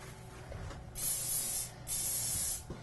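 Two short hissing bursts from an aerosol can of canola oil cooking spray onto a cake pan, close by, with a quiet pause between them.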